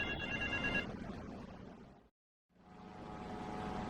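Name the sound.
payphone ringing in video game GTA Vice City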